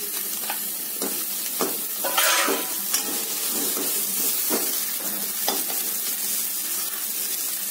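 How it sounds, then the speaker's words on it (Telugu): Chopped carrots for a vegetable-roll curry sizzle steadily in hot oil, with repeated scraping strokes of a spoon stirring the pan at close range. "అక్కడ మనం నూనెలో ఇవన్నీ వేసుకొని మనం కూర ప్రిపేర్ చేసుకోవాలి. ఇదిగోండి క్యారెట్ వేస్తున్నాను."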